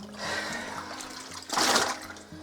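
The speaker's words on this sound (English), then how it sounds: "I'm going to wring this one out." Water splashes and drips as a wet cotton linen cloth is wrung out over an empty dish pan in a basement, a short burst of dripping followed by a louder, fuller splatter near the end.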